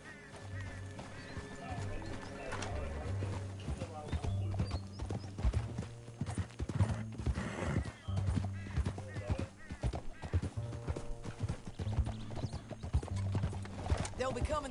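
Horse hooves clip-clop in Red Dead Redemption 2, a steady galloping rhythm with a whinny, mixed under game music and voices talking.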